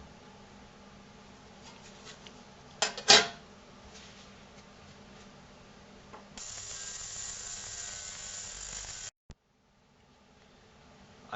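A JPS-36A ultrasonic cleaner running with its lid flipped over gives a steady, close, high-pitched buzzing hum that switches on partway through. Earlier there is a brief clatter, and the hum cuts off abruptly into near silence.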